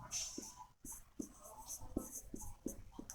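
A pen scratches across paper in short, quick strokes, some taps and scribbles in an irregular rhythm, close and quiet.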